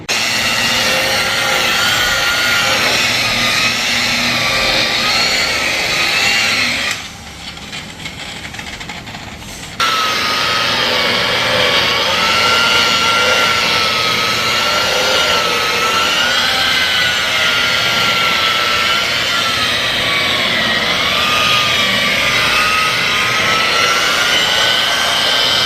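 Rotary buffer polishing compound into a cheap can-sprayed paint job on a Fiero GT, a loud continuous high-pitched whine with wavering tone that drops briefly to a lower murmur before resuming at full strength.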